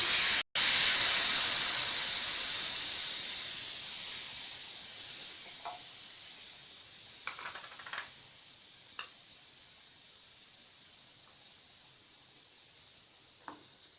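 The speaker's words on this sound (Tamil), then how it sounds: "இப்போ அதே பேனில் நம்ம எடுத்து வச்சுருக்க பாலை சேர்த்துக்கிறேன்." Milk goes into a hot pan and meets it with a loud hiss that slowly fades to a soft simmer, broken by a few faint ticks and clinks.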